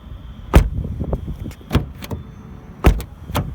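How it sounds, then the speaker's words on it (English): Sedan car doors shutting with solid, heavy thuds, three firm closes and a lighter fourth spaced across a few seconds, close by with faint background noise. "notice how this door sounds the most solid"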